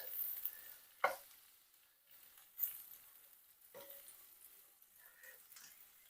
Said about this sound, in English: We'll let them stir fry up.